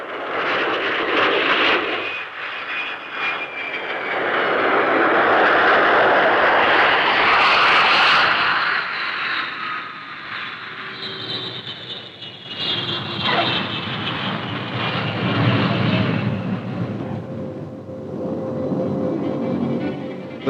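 An F-100 military jet aircraft flies past loudly, its roaring engine swelling and fading over about twenty seconds, with a rising whine and a second pass of rumbling noise later, heard alone.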